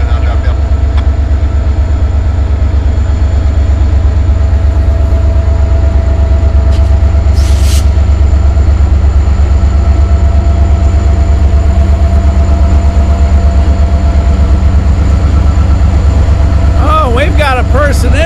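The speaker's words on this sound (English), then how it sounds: "We're all day long back and forth as they put the trains together." Freight trains are put together in a large Norfolk Southern classification yard, a constant loud low rumble of rolling railcars with a brief squeal of metal partway through and another near the end.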